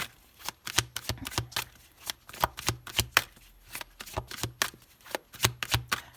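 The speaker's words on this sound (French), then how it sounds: "on va poser les 6 cartes" A deck of tarot cards is riffled and shuffled close by in quick, uneven bursts of papery flutters and slaps separated by short pauses, with no voices.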